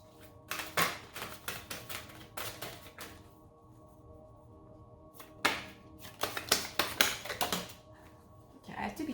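Tarot cards shuffled by hand in bursts of riffling and shuffling, close and fairly quiet, with pauses between the shuffles and no speech.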